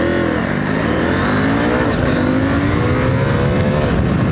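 A KTM 890 Rally motorcycle launches from 0 to 60, its engine loud and close as it revs hard and climbs steadily through the gears, with constant wind rush and no talking.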